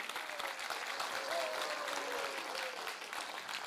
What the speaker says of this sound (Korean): 다 같이 박수 부탁드리겠습니다